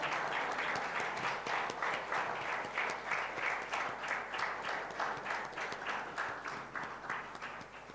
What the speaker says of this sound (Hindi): जोरदार तालियों से स्वागत करें इन पुस्तकों का